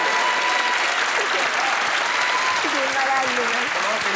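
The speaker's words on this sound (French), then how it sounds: "on l'applaudit très fort." TV studio audience applause on a French television show, dense and loud, filling the clip without pause, with a few voices faintly audible over the clapping.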